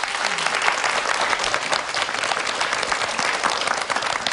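Audience applause in a lecture hall, dense and steady clapping from many hands filling the room throughout, close and fairly loud.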